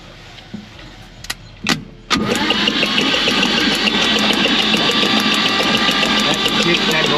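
Ignition coil buzzing on a 1949 Chevrolet Advance Design truck revived after 30 years, a few sharp clicks followed by a sudden, continuous loud electrical buzz that holds steady and close to the end.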